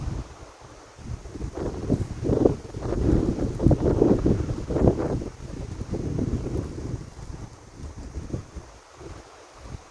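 A gust of wind blows outdoors at a rifle range, rumbling and buffeting against the microphone as a rough, swelling roar that peaks midway and then eases off.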